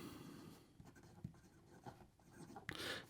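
A Leonardo Momento Zero Grande Micarta fountain pen scratches softly across paper in short strokes and pauses, close up and faint, ending in a brisker scribble.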